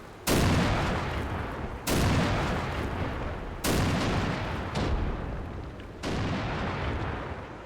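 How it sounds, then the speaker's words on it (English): Explosions and gunfire in the tank battle game Armored Brigade 2: four heavy, loud blasts spaced about a second and a half apart, each with a sharp onset and a long rumbling decay, with no talk. "a lot of missed shots, a lot of explosions going off everywhere"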